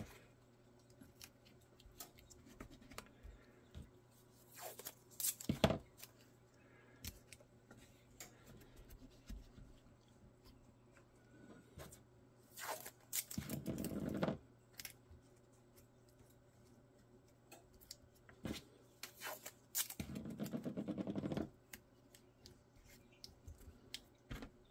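Tape for Kydex holster making is torn and pulled in several short, sharp ripping bursts spaced apart, close and fairly loud against a quiet workshop background.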